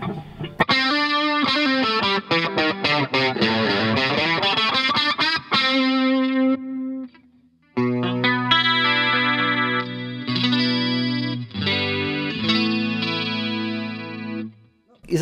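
Electric guitar played through a Blackstar Silverline Deluxe 100W amplifier with a modulation effect, loud and sustained with swirling chorus-like shimmer, first fast picked runs and then ringing chords, with brief pauses between phrases.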